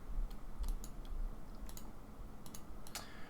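Someone types on a computer keyboard while playing an online card game. Scattered sharp clicks come in small bursts, fairly quiet and close, with no talking.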